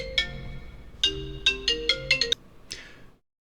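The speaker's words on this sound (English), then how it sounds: "Okay, brief intermission, client phone call." A phone rings with an incoming client call, a bright electronic melodic ringtone of several quick tones playing loud and close before cutting off abruptly, followed by a short faint tail.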